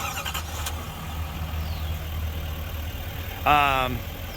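A 2024 Chevrolet Silverado 2500HD Crew LTZ with a Duramax diesel engine cranks and fires up near the end, starting with a sudden loud rev that settles after a fairly quiet stretch.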